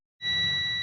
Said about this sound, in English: so you can hear it beeping